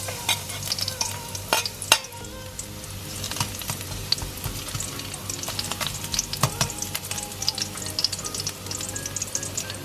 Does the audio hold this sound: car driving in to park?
no